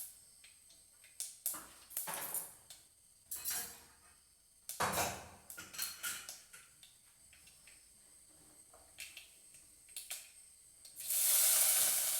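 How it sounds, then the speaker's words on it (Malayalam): Onion, ginger and green chili are stirred into a pan with mustard seeds and fennel, giving intermittent spoon scrapes and clinks over a soft sizzle, with a brief louder hiss at the end. "ഇതിലേക്ക് സവാളയും ഇഞ്ചിയും പച്ചമുളകും എല്ലാം ചേർത്തൊന്ന് വഴറ്റിയെടുക്കുകയാണ്"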